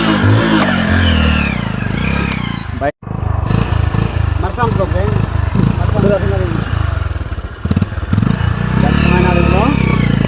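A motorcycle engine revs and drones loudly through a dense forest on a rainy day, its pitch rising and falling as the bike climbs and descends, with a brief cut partway and people talking over it.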